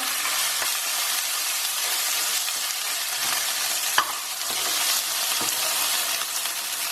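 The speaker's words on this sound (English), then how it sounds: "add the ginger and garlic paste. And mix that through till it releases all its beautiful aroma" Ginger and garlic paste fries with onions for an Indian dhal and spinach curry, a dense, loud, continuous sizzle with occasional stirring scrapes, close by and without speech.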